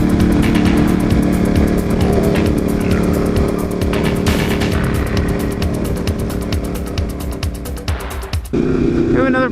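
A Ducati 959 sport motorcycle ridden at night on the way to a powersports bike night, its engine a loud, steady, close drone with layered harmonics and wind rush, dipping briefly near the end as the revs shift.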